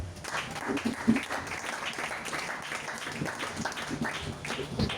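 A church congregation applauding and cheering during a sermon, a moderate wash of scattered clapping and voices lasting the whole stretch without pause.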